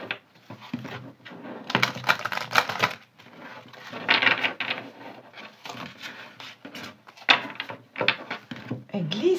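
A deck of tarot cards is cut and shuffled by hand during a reading, giving bursts of soft riffling and flicking card noise in irregular clusters, close and moderately loud, with a voice talking at times.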